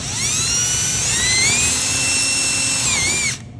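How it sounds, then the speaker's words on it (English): A power drill drilling into wood whines loudly and steadily, its pitch dipping briefly under load twice before it stops abruptly. "you're going to have a friend hold, or you can hold, and you're going to drill."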